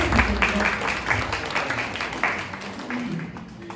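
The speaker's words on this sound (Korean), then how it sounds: "박수 부탁드립니다." Audience applause at a Korean company New Year kickoff ceremony and monthly all-staff meeting, steady dense clapping from a crowd sustained throughout, fading slightly toward the end.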